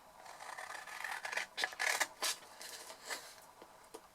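Scissors snipping through card stock while trimming away small oblong pieces for a tea-and-biscuit make-and-take craft, a series of short close crisp cuts and rustles with no talking.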